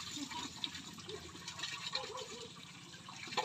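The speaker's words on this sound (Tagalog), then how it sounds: "Buhos ka pa." Water poured over a person being bathed, splashing and running steadily close by, with people talking over it throughout.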